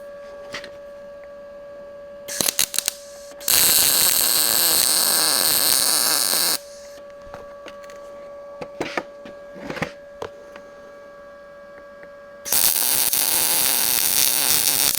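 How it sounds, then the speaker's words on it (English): Welding on a Ford L9000 Aeromax truck produces loud, harsh crackling buzz in two sustained bursts with a shorter sputter before them, separated by quieter stretches of hum and faint clicks. "we're just gonna weld this thing up."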